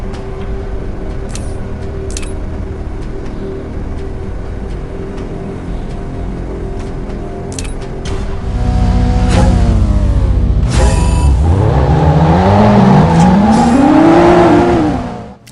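A racing car engine in the mobile game 2K Drive rumbles steadily, then revs and accelerates loudly with rising whine and tire squeal before cutting off.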